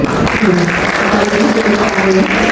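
Congregation applauding during a church sermon, steady dense clapping throughout with tonal voices or music faintly beneath.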